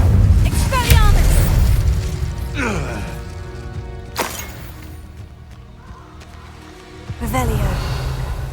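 Spell effects cast in the Hogwarts Legacy game, a series of whooshing, booming magical blasts and swept tones with sharp impacts, mixed with game sound while a voice calls out over them.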